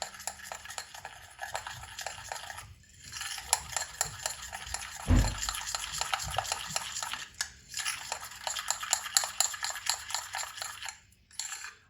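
A spoon stirs and scrapes a turmeric and gram flour face pack paste in a bowl, making steady, close scraping strokes for about twelve seconds with a few brief pauses.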